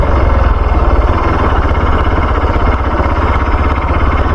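A motorcycle engine runs while the bike is ridden slowly, a loud, close, continuous rumble with a fast, even pulsing throb and no voices.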